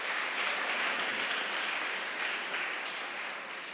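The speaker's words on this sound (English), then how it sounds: "Please clap for Mr. McLean" An audience at a workshop on social media and music gives steady, dense clapping for Mr. McLean, filling the room evenly before it eases slightly toward the end.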